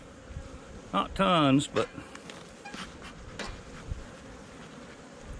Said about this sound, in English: Looks like there's a lot of bees here.